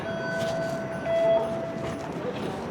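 A train in Toronto rumbles steadily with a faint high whine, a continuous mechanical hum of a carriage in motion.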